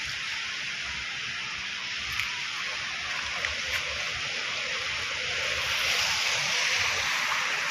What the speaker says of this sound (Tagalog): Tawag dito alon yung pasampas ng alon oh